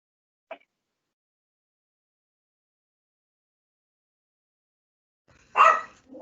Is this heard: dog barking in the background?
yes